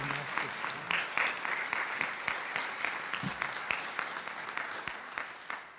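An audience at a charter school's Charter Day event breaks into applause for a student, a dense wash of many hands clapping at moderate distance that holds steady, then begins to thin and fade toward the end.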